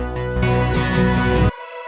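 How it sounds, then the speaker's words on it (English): A short bass synth passage from "Behold (Then Sings My Soul)", a deep bass line under bright layered tones, plays for about a second and a half, then cuts off abruptly, leaving a low hum. "the bass synth sounds like this"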